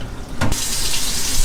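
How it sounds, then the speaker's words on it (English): Hot water is poured out of a pot of boiled tomatoes into a sink, a sudden loud gushing splash that settles into a steady, close rush of running water with no talking. "You just dump the water out"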